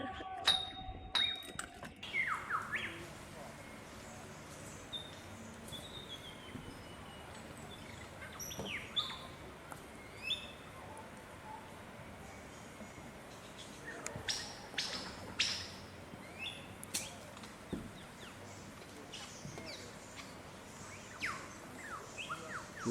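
A bowerbird calls in the Blue Mountains bush, giving scattered chirps and sharp whistled calls over a steady wash of insect and forest ambience. A young male is displaying near a female, and faint voices murmur at times.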